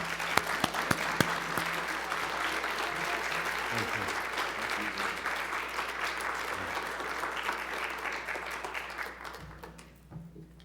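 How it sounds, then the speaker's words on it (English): A lecture audience gives a long round of applause to welcome medical doctor Raman Gokal. The clapping is full and steady for about ten seconds, then fades out at the end. "we have a round of applause for medical doctor Raman Gokal?"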